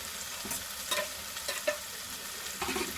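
Spice paste with chili paste frying in oil for a Bengali egg and potato curry, stirred in the pan: a steady soft sizzle with a handful of scraping stir strokes, close and fairly quiet.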